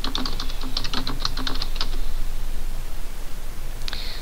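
Typing on a computer keyboard while entering a search for a browser extension in a web store, a quick run of close clicky keystrokes over the first two seconds, then a pause and one brief bright click near the end.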